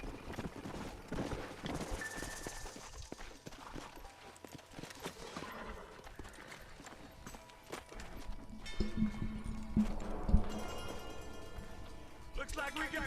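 Horses clip-clop at a steady walking pace in the Western video game Red Dead Redemption, a soft rhythmic patter of hooves under game dialogue and talking, with faint background ambience.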